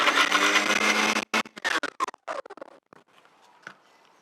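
A kitchen mixer grinder whirs loudly for about a second while grinding dry garlic masala, then cuts out into a string of short stuttering pulses as it is switched on and off, fading to faint clatter.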